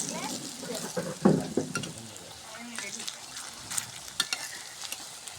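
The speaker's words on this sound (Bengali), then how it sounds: "কত সুন্দর করে ভাজা নেওয়া হচ্ছে সাজনা ফুলের বড়াটা" Drumstick flower fritters frying in hot oil give a steady crackling sizzle, with a few louder bursts and utensil scrapes as they are stirred and turned; no voices are heard.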